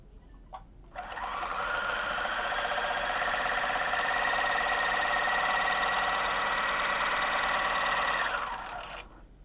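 A 4-thread overlock serger runs a continuous row of stitches at its lowest tension setting, a steady loud whirring drone that starts abruptly, holds for about eight seconds, then stops.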